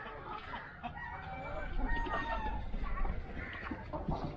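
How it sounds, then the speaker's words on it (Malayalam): Black chickens and native chickens crowd a rooftop coop, with continuous clucking and rustling growing busier partway through and staying at a steady, close level. "ഞാൻ ചെയ്താൽ കുറേ കരിങ്കോഴികളുണ്ട്, നാടൻ കോഴികളുണ്ട്."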